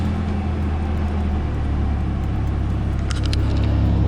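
A supercharged Toyota engine idling steadily after starting, with its new fan and fan clutch spinning, producing a constant low hum and whir and a few faint metallic ticks near the end.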